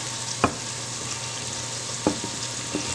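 Sausage sizzles with onions and peppers in a pot, a steady close frying hiss broken by a few sharp stirring clinks and scrapes.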